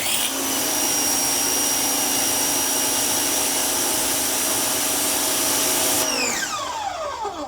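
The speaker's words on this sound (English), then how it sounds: "Now we can turn on the machine. And we can pull the trigger to test out and make sure we have consistent pattern." An Active VE2/56 portable pressure washer sprays through its nozzle with a loud, steady hiss and motor whine that holds for about six seconds, then cuts off and winds down. No talking.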